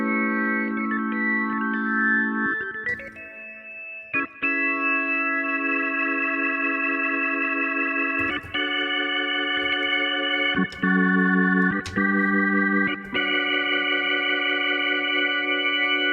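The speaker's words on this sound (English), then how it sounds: "that's a dead ringer for an organ." An organ patch played on a DeepMind 12 synthesizer through rotary speaker and distortion effects, sustained chords that hold and shift with brief breaks between, loud and alone with no voices.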